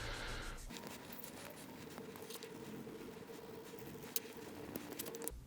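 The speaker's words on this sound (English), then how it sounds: "You don't want to use any metal when you're scraping this because you'll damage the aluminum." Old thermal paste scraped off an aluminum heatsink with a plastic tool, a close, continuous scratchy rasping with quick strokes and small clicks, heard alone without talk.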